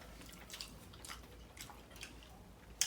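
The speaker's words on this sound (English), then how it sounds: "I'm still chewing." Someone chews sushi close to the microphone, a quiet run of soft, moist bites and squishes spaced about every half second.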